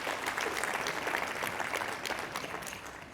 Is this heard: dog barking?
no